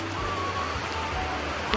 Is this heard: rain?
yes